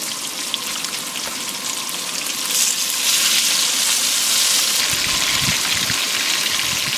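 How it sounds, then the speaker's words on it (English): Onions and potatoes frying in a pan at a camp cooking setup, a continuous hissing sizzle that swells louder partway through, with low stirring bumps near the end, up close and without speech. "I'm going to go ahead and add the onions in, and then I'm just going to cook them until these onions are nice and limp"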